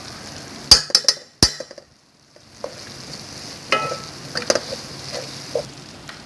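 Ginger garlic paste hits softened onions in a hot pan, with a few sharp clinks of a utensil against the pot, then a steady low sizzle and scattered light stirring scrapes.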